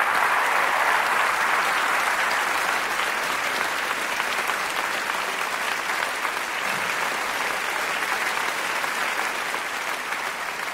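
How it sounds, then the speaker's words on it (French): Theatre audience applause, a dense and sustained ovation from a large crowd filling the hall, loud and steady with the occasional whistle or cheer. "je voudrais que vous les applaudissiez très fort."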